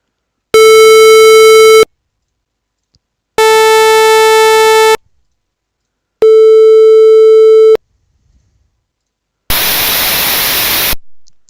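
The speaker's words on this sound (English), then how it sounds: "Now let's try out the other waveforms." Four sustained tones from a software synthesizer's oscillator waveforms play one after another with gaps of silence between, the first three buzzy and pitched, the last a hissing noise burst.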